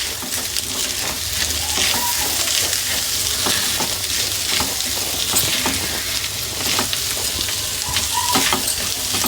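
Egg pepper fry is stirred in a pan, and the loud, continuous sizzle comes with repeated spatula scrapes and taps against the metal. Nobody speaks.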